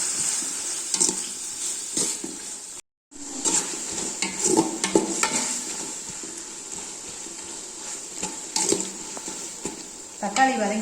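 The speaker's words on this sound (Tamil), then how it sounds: "தக்காளி வதங்கிட்டு இருக்கு." Tomatoes with salt sautéing in a pan for chicken biryani, a steady sizzle broken by frequent spoon scrapes and stirring clatter against the pan, with a brief drop-out near the start.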